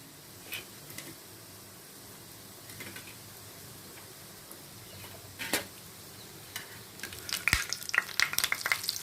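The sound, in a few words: fish cutlets frying in oil in a pan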